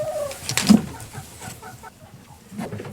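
Backyard hens cluck a few short times near their coop at a forested homestead in a small Texas town, moderately close, with no talking.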